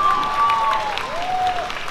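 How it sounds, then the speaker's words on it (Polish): Crowd applause at the Chmielaki Krasnostawskie 2019 festival, a steady, moderately loud patter of many hands with a faint whistling tone gliding over it. "wielkie, wielkie brawa"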